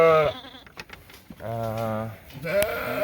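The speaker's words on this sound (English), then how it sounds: "Jeffrey and Jackie are deworming the lambs" Lambs bleat loudly and close by during deworming, with several wavering cries in a row, separated by short pauses and handling noises.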